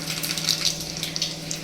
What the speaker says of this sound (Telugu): తాలింపు గింజలు వేసుకున్నా.